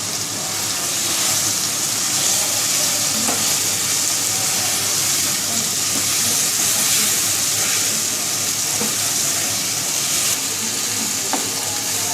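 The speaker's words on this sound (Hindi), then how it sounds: "अब हम इसके अंदर आलू ऐड कर देंगे और इनको अब अच्छे से मिक्स कर लेंगे" Potatoes stirred through oily curry masala for a potato and egg curry, frying with a steady, close sizzle and occasional scrapes and clinks of the spoon, with no voices.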